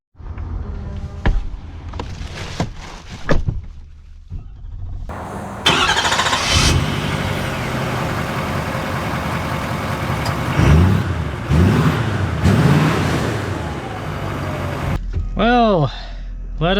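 A 2025 Ford F-350 King Ranch pickup cranks and catches, then settles into a steady mid-pitched idle with a few revs, starting quiet and growing louder; a voice speaks briefly.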